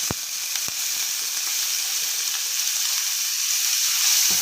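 Onions dropped into a hot pan sizzle steadily, a dense, even frying hiss that holds close and loud throughout, with a couple of sharp clicks near the start.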